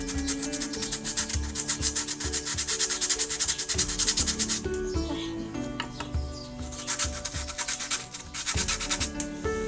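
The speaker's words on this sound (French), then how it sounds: "on va poncer les trous" Wooden holes being sanded by hand for a Father's Day craft, a close, steady back-and-forth scratching rub that runs continuously in fast even strokes.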